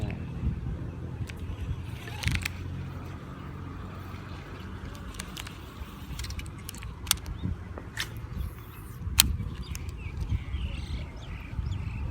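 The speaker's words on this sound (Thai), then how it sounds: "ลมแรง" Strong wind gusts buffet a lakeside fishing spot, a steady low rumble with occasional sharper bursts and faint clicks throughout.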